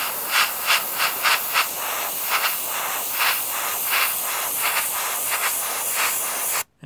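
An AK 0.3 airbrush hisses steadily as it sprays, the airflow pulsing in a quick series of short bursts before cutting off abruptly at the end.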